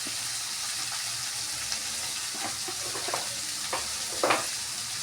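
Onions frying in a pan with salt and turmeric just added, a steady low sizzle running throughout with a few soft stirring scrapes and clicks near the end; no talking.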